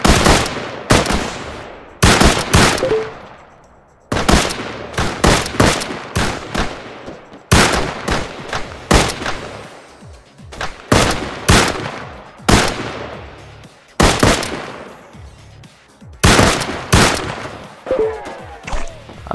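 Repeated bursts of rapid machine gun fire in the video game Arma 3, loud and close, in short volleys separated by brief pauses, with sharp echoing cracks.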